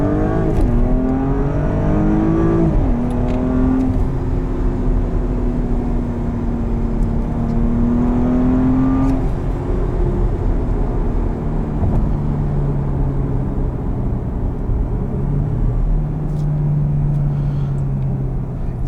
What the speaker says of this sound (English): put this thing in sport response for 20 seconds